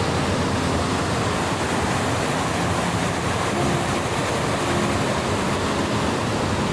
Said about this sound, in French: Là, on arrive à la cascade mère.